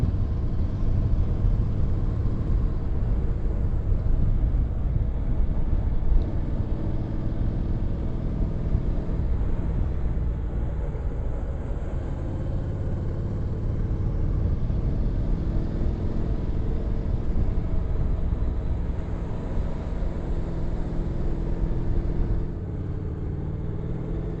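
A motorcycle rides along a road toward a twisty mountain pass, giving a continuous low engine drone and rumble mixed with wind for the whole stretch, steady and even with no talk.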